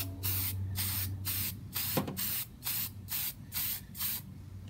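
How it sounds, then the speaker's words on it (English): A spray paint can laying a light coat of flat black on a Chevrolet Silverado / GMC Sierra cubby hole part, close sharp hissing bursts in a steady rhythm of about nine short sprays. "I'm gonna give this just a light coat of flat black."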